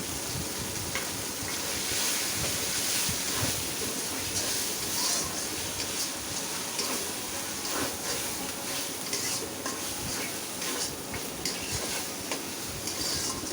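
Already-fried potatoes tumble into hot spiced oil for a matar dal bora dalna curry, a continuous close sizzle and crackle with a dense hiss and occasional stirring scrapes.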